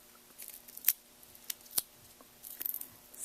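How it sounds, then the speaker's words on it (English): Cheap dollar-store scissors snip through a small foam square in a quiet craft setting, a few sharp, crisp cuts spaced apart with faint handling rustles between them. "I'm going to go ahead and cut this foam square in half."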